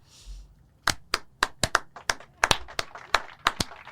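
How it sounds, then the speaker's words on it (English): A small audience at a homecoming show claps in sparse, separate strikes, about a dozen sharp hand claps spaced irregularly and fairly close, after a brief quiet moment at the start. "Clap if you're happy."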